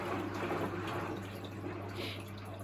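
A Miele WS5073 sluice washing machine pumps out its load of water, giving a steady, continuous watery rush with a low mechanical hum underneath, close by and without talk.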